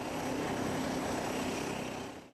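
Kenya Air Force planes at Laikipia Air Base run their engines while preparing for takeoff, giving a loud, steady propeller drone that holds level throughout, then cuts off abruptly at the end.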